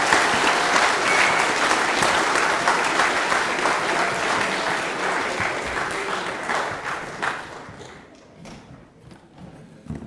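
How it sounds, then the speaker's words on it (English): A school prizegiving audience applauds loudly, with a thick wash of clapping that holds steady and then gradually thins out and fades over the last couple of seconds. "Ladies and gentlemen, please, a big, big round of applause for Leona."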